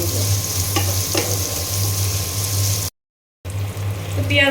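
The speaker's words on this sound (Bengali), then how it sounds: "এখন তেলের সঙ্গে খুব ভালো করে পেঁয়াজটা আমি ভেজে নিব।" Chopped onions fry in oil in a cooking pot with a steady, close sizzle and an occasional stirring clatter. The sound breaks off briefly in the middle, then the sizzling resumes.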